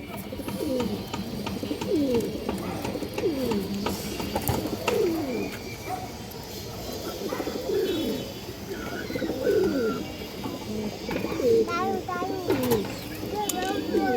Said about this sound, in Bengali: খুবই সুন্দর একটা মাদি কবুতর মাশাআল্লাহ, লাল গিয়ারের।